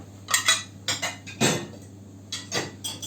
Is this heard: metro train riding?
no